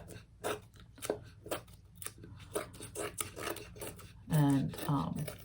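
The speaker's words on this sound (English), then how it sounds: "then I just cut the edges" Scissors trim dollar-store painter's tape along the edges of a 9-inch pink painted wooden heart, making a quick series of close, crisp snips before someone starts speaking.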